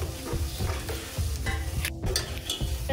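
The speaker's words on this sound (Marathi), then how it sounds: "आता आपण हे सर्व मसाले मिक्स करून घेत आहोत" Spices, including turmeric, ground coriander and red chilli powder, are stirred in a sizzling frying pan, with a spoon scraping in a steady rhythm over constant loud frying and no speech.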